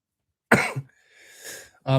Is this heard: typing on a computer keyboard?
no